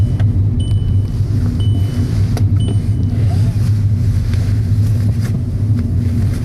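A car drives along a road near Malibu, with a steady, loud low engine and tire rumble filling the whole stretch and a few faint higher ticks above it.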